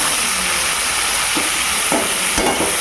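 Chopped tomatoes go into onions frying in a pan for chicken gravy, giving a loud, steady sizzle and hiss with a few stirring scrapes and no talk.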